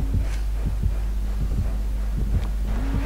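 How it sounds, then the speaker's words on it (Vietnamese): A pounding heartbeat signals a killer close by in the horror game Dead by Daylight, thudding in steady paired beats over a low droning hum, loud and near throughout. "tìm chưa gì nghe tiếng tim đập gần đây này"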